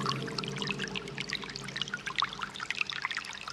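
Water spills over the edge of an infinity pool at a tropical luxury house, pouring and trickling in a busy stream of small splashes and drips, close and steady, with no voices.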